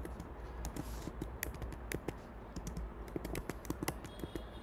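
Steady, quiet clicking of computer keyboard keys while code is typed into Notepad, with irregular fast keystrokes close by and no speech.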